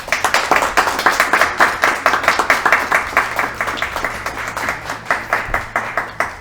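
An audience at a book launch in a bookstore claps steadily together for several seconds, a dense, even patter of many hands without cheering or voices.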